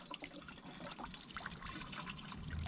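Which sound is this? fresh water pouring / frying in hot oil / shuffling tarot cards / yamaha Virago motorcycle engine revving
fresh water pouring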